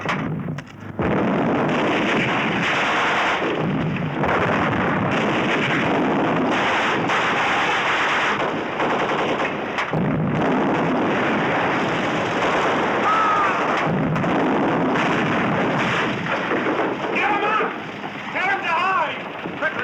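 Gunfire and explosions in a Holocaust war film come as continuous heavy, roaring blasts with a windy rumble. They stay loud and dense for nearly twenty seconds, with shouted voices mixed in.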